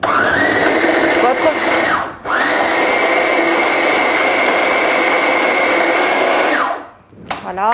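A kitchen food processor runs with a loud, steady high whir for about two seconds, cuts out briefly, then whirs again for about five seconds before stopping and restarting at the end; no speech over it.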